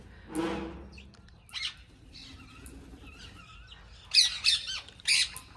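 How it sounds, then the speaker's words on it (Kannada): House sparrows give a few sharp, bright chirps and squawks in short clusters, with one louder call near the start and a busier burst of chirping toward the end, heard at close range with no other sound over them. "ಇಲ್ಲಿಗೆ ಬಂದಮೇಲೆ ಎಷ್ಟೊಂದು ಗುಬ್ಬಚ್ಚಿಗಳು ನೋಡ್ತಾ ಇದ್ದೀನಿ"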